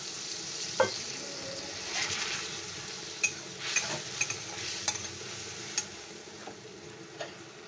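Banana flower frying in hot mustard oil after tempering in a pan for mocha chingri, a continuous close sizzle broken by frequent light spatula clicks and scrapes against the pan.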